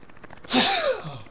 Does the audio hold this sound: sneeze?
yes